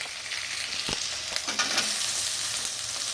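Okra fries in a pan with a steady, close sizzle, and onions go in with a brief clatter and stir partway through, after which the frying crackles on without any talking.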